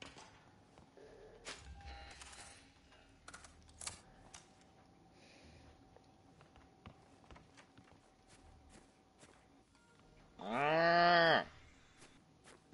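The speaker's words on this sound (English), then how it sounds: "I go moo." A cow moos once in a video game, a loud drawn-out call standing out near the end over quiet background sounds.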